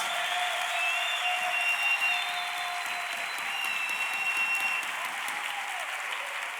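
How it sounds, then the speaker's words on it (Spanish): A church congregation applauds at a sermon, a continuous roar of clapping and cheering that stays even throughout, with faint whistles riding above the crowd. "Dale un fuerte aplauso al rey."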